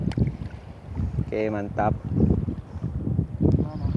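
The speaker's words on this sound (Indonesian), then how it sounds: "anginnya masih sangat kencang bosku" Strong wind buffeting a fishing boat out at sea, heard as a steady, loud rushing roar across the whole stretch, with people talking over it.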